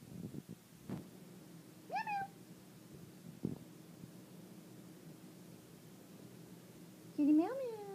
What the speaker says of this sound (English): Kitty meow meow.